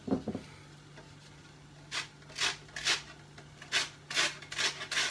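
A lemon is zested on a cheese grater with a series of separate rasping strokes, close and fairly soft, after a brief knock at the start, and no one speaks.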